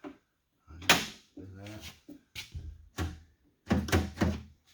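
A 2008 Kia Sorento car door is shut with a solid thunk, followed later by another firm bang, while someone speaks nearby between the impacts.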